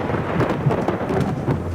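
Steady heavy rain pours throughout with low rolling rumbles of thunder underneath, a continuous loud stormy wash with no voices.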